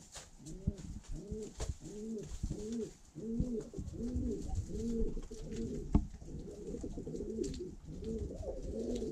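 Pigeons in a loft coo steadily in overlapping rounds, with rising bursts of agitated calls and scuffling as birds squabble at close range throughout.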